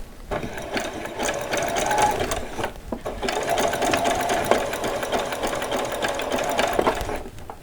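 A sewing machine stitches doll socks slowly, its steady close motor whir and needle chatter running nearly continuously with a brief pause partway through.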